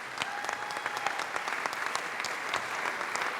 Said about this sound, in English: let's give a round of applause to Dr. Barker.